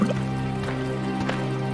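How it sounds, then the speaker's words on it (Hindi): Water is poured into clay pots at a riverbank near a village, making soft dripping and trickling splashes over a steady tonal background. "अपने अपने मटके में पानी भरकर"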